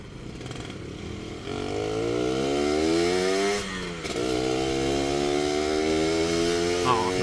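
A Suzuki Satria R120 motorcycle fitted with an Andyspeed aftermarket exhaust revs up and holds a loud, rising engine note, dipping briefly and climbing again, close by with some faint voices.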